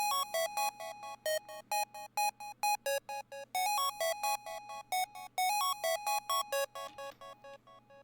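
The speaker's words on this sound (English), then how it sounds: "it uses an oscillator to mark the futuristic style of the beat" Futuristic oscillator synth from an FL Studio beat, playing a bright, bouncy staccato melody of rapid repeated bell-like notes, fairly quiet and alone over a faint low hum.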